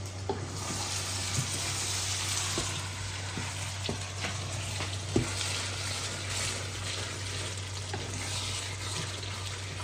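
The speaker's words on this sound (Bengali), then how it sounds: "এই ভুড়িটা জ্বালাবো গরম করব আর চালের রুটিটা গরম করব" Beef tripe reheats in a pan, giving a soft, steady sizzle close by with occasional light clinks and scrapes of stirring and no talking.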